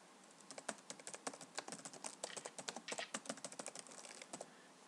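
Rapid, steady clicking of keys on a computer keyboard, close and fairly quiet, with no voices.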